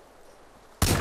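A single loud, close gunshot in the GTA San Andreas DYOM mod, landing as a headshot and bursting suddenly out of a quiet, low background at the very end.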